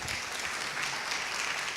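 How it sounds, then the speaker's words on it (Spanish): Church congregation applauding together during a Sunday service, a steady wash of clapping that stays at an even level throughout, with no voices standing out. "Vamos, apláudale fuerte al Señor."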